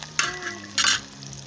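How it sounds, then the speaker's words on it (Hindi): Ginger, garlic and onion fry in a pan with a soft steady sizzle, while two bursts of stirring scrape through the pan. A low hum runs underneath and no one speaks. "अच्छे तरीके से इसे हमने भूनना है 2 से 3 मिनट के लिए"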